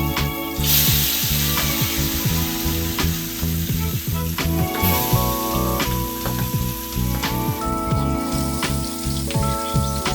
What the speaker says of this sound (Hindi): देखी दोनों दने मछली छना रहल बा।